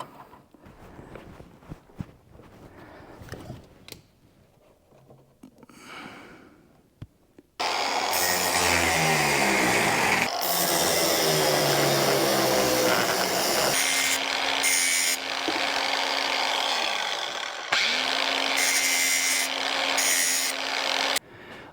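Angle grinder with a cutting wheel grinding steel rust repair panels on a 1993 Mazda Miata NA MX-5: loud, harsh, close continuous grinding with the motor pitch rising and falling, after several seconds of quieter handling and clatter.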